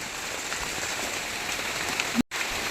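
Light rain falls steadily as a soft, even hiss of drops on surfaces outdoors, with a brief dropout near the end and no voices.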